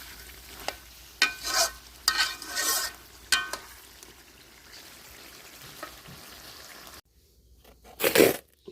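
Meat cooks with onion and spices over a low outdoor fire. A gentle, steady sizzle is broken by several loud, scraping stirs against the pot, and a final burst of stirring comes after a brief quiet gap.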